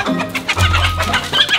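Several chickens cluck close by, roused and caught off their perch before dawn; the calls are loud, busy and overlapping, with no talk.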